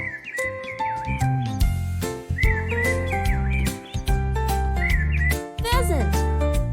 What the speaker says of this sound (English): Starling. A shiny black bird that sings lots of songs.